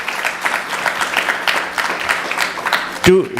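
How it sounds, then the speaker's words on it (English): An audience applauds after a Sunday feast lecture, with a continuous patter of many hands clapping. Near the end, a brief voiced sound cuts in over the fading applause. "Please give him another big round of applause."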